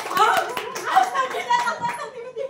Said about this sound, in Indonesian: Ya kita tepuk tangan untuk Ketua Pesparani 1.